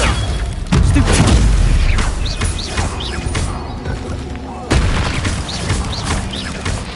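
Incendio and Confringo spell blasts from Hogwarts Legacy hit loud and close, a heavy booming burst at the start and another surge near the end, with crackling fiery debris and rumble filling the gaps between them.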